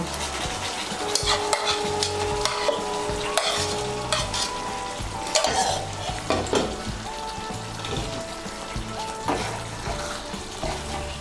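Lightly fried onions stirred into a pan of pointed gourd do pyaza with ghee and garam masala, a continuous crackling sizzle broken by repeated scraping and knocking of a spoon against the pan.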